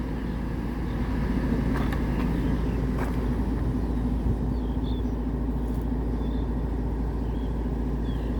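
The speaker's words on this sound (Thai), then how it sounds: "ขับรถขึ้นเทเลอร์ได้นิ่มมากเลยป๋า" A Kobelco SK200 excavator drives onto a trailer, its diesel engine producing a steady, loud low rumble that holds evenly throughout, with faint higher clanks above it.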